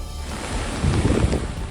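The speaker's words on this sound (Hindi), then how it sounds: "पानी का तांडव ऐसा कि इस बहाव के इर्द गिर्द आना भी खतरे से खाली नहीं" Floodwater from a rain-swollen river surges in a loud, continuous rushing roar, heavy and rumbling, with a brief swell in force partway through.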